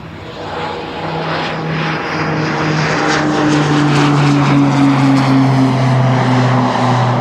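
Airliner jet engines spooling up for takeoff on the Polderbaan runway at Amsterdam Schiphol, a loud rising roar with whining tones that builds steadily and stays close, without talking.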